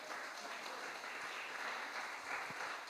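A church congregation applauding at a Sunday service, a broad, even wash of clapping heard faintly from a distance and held steady for the whole stretch.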